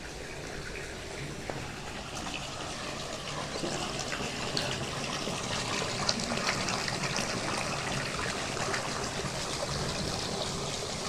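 Irrigation water runs steadily into a garden field of flowers and crops, a continuous broadband rushing and trickling stream, fairly loud and close, with no voices over it.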